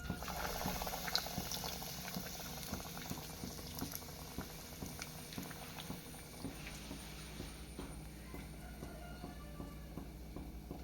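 Cabbage cutlets coated in breadcrumbs bubble and crackle steadily in hot oil, a dense, continuous frying hiss with small pops throughout, close by and without talk.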